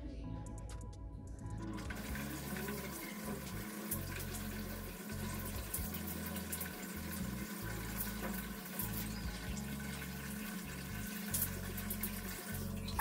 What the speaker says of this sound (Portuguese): Primeiro eu vou lavar o meu cabelo, deixar aqui pra não ir água em vocês todos.